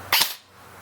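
One close, crisp snap from a King Arms Colt M4A1 metal AEG airsoft rifle shot through a chronograph, a quick double-edged crack that dies away into faint room hiss.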